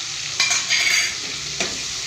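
Dried fish and ground masala are stirred in a pan with a steady frying sizzle, and a few louder scraping strokes of the spoon sound close by. No one speaks.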